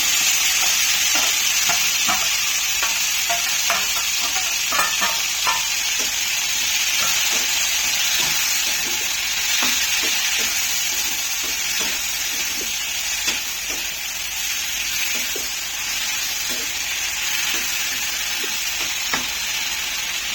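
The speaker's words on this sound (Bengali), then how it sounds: "পেঁয়াজের পেস্টটা দিয়ে দিন।" Onion paste frying in a pan for egg curry, a bright, steady hissing sizzle that runs throughout, with repeated soft scraping and clicking stirs scattered across it.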